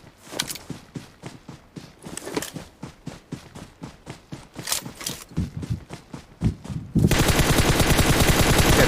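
Gunfire in PUBG Mobile, rapid repeated game gunshots in bursts, loud and close, turning into a dense continuous roar of automatic fire in the last seconds.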